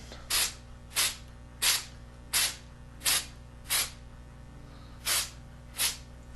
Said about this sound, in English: hold your can back pretty far and just kind of blast it